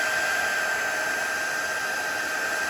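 An embossing heat tool blows hot air over embossing powder on a stencil-embossed card, producing a steady airy whoosh with a constant high whine, moderately loud and uninterrupted with no talk.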